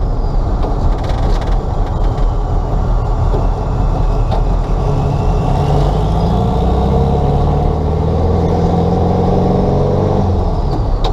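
A Turbo Bug car engine revs repeatedly under throttle from a real gas pedal, loud and close, with rising and falling pitch across the whole stretch and rough mechanical rattling underneath.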